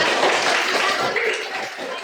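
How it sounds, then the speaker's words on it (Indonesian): A burst of hand clapping from a group, dense and lively at first, then thinning slightly toward the end. "Tepuk tangan dulu untuk kita semua"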